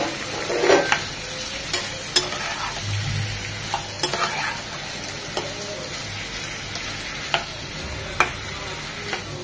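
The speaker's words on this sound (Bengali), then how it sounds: "সেটাকেও পেঁয়াজের সাথে ভেজে নেব" Cubed tomatoes and a few green chilies fry with onions in a pan, giving a steady close sizzle broken by sharp scrapes and taps of a stirring spoon.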